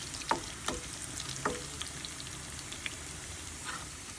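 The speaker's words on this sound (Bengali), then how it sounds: "ভাজা হচ্ছে।" Mixed vegetables and lentils fry in oil in a pan over a low flame, giving a soft steady sizzle broken by a few sharp pops and crackles, with no talking.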